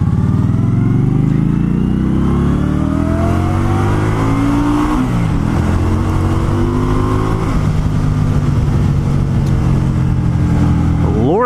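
A 2020 Indian Scout Bobber Sixty motorcycle accelerates hard, its engine note climbing in pitch through several gear changes. The sound is loud, close and continuous.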